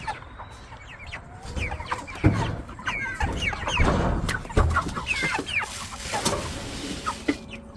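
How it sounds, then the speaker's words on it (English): Several chickens clucking and chattering close by, overlapping busy calls from a small flock of hens with one rooster, with outdoor background noise. "Maybe one rooster right there in the middle. The rest of these girls are hens."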